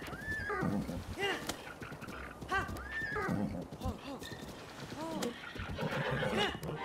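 A horse in Zelda: Breath of the Wild whinnies again and again in loud, rising and falling neighs, with hoof clip-clops and game ambience under the calls.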